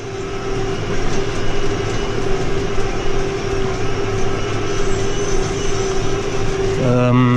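Başak 5120 tractor engine running steadily while sowing wheat, a loud continuous droning rumble with a constant hum throughout, rising slightly in tone near the end.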